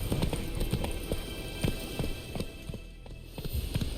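Geralt's horse Roach in The Witcher 3 trots along with a steady run of clip-clopping hoofbeats, moderately close and clear over a low background hum, with no talk.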